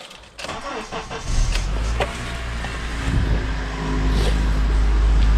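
Honda Element engine starting up: a click and brief cranking whir, then the motor catches and settles into a steady low idle rumble that grows slightly louder toward the end.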